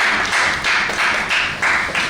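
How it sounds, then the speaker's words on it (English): An audience claps for a pastor in a fast, close, even rhythm that swells and dips in short bursts. "A round of applause for him, please"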